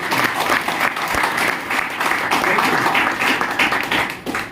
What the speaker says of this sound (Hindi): तो एक बार मेरी great upline mister Balkishan Prajapati ji के जबरदस्त तालियां।